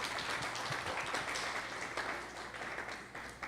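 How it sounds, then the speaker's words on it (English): A steering committee audience gives a round of applause to the last presenting group, soft steady clapping heard from a distance with a faint low hum beneath. "How about a round of applause for the last group?"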